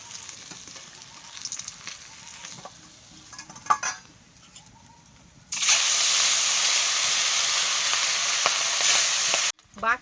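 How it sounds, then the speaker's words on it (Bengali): Rohu fish pieces frying in hot oil in a pan, a soft sizzle with scattered clinks and stirring that swells into a loud, steady hiss for several seconds, then cuts off abruptly. "বাকি মাছগুলোও আমি লাল লাল করে ভেজে নেবো"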